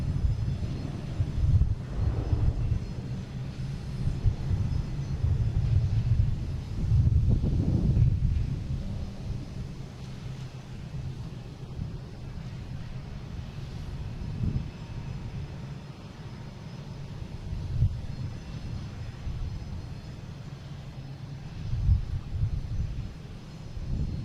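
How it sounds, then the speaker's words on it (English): A fixed-wing airliner, flight 213 from London Heathrow, arriving at Boston Logan International Airport, rumbling as a steady low engine roar that swells and fades in waves over the full stretch, with some wind buffeting the microphone. "Coming in from London Heathrow, flight 213."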